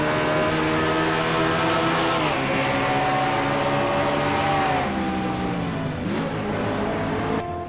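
A race car on an onboard lap of Barber circuit howls loudly and continuously, its engine pitch rising and dropping through gear changes and corners.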